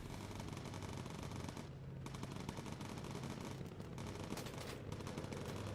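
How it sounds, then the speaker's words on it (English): Rapid machine-gun fire from attacking fighter planes in the Bomber Crew video game, dense continuous bursts rattling almost nonstop over engine drone, with a brief gap partway through. "We're taking some fighter fire."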